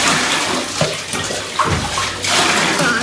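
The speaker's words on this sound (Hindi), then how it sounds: "पानी भर लिया जाए।" Water pouring from a tap into a tub for washing clothes, a steady close splashing gush with gurgling surges throughout.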